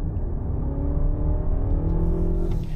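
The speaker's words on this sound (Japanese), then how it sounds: "スロットルペダルを踏んでバーンと立ち上がるのが魅力なんですが その時にこのね快音がするのがいいじゃないですか" A Honda Accord e:HEV hybrid accelerates hard with a smooth rising whir and synthetic engine-like tone, steady and loud throughout, no talking.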